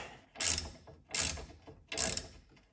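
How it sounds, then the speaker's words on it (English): A ratchet turns the sway bar end link stud on a 2009-2015 Honda Pilot, three separate bursts of close, clicking pawl strokes with short pauses between them. "we're going to put the ratchet in what would normally be the tighten direction because we're going to screw that stud through the nut"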